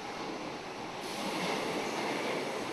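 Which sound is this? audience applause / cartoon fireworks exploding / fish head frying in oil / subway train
subway train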